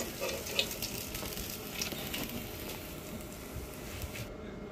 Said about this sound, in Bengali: দেখুন মাছগুলো ভেজে নিচ্ছে